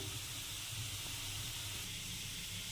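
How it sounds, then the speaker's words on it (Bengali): Potatoes frying in mustard oil until browned, a continuous close hiss of sizzling oil with a low steady hum underneath, even in level from start to end. "তার জন্য আলুগুলো ভেজে নিচ্ছি লাল লাল করে"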